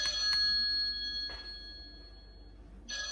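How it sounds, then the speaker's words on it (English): A phone rings in a home kitchen during baking, with short electronic ring bursts at the start and again at the end, fairly faint against room noise and no talking. "my other phone is ringing"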